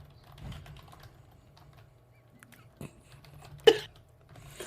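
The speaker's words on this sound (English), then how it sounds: "I'm getting a furious typing response." Scattered, quiet clicks of someone typing on a computer keyboard, a few keystrokes spread out with one louder tap, heard close up in a podcast setting.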